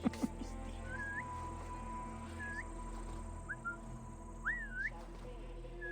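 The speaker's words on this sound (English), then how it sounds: "I am just a whistling peasant." A person whistles a tune in short rising and falling glides, with several separate phrases spaced apart, moderately loud over a steady low background hum.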